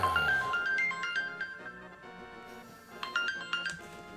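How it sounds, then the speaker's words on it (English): A phone ringtone plays nearby, a bright melodic electronic jingle of quick rising notes that pauses briefly and then repeats, with no voices over it. "Phone call."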